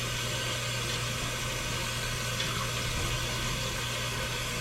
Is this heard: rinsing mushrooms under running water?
yes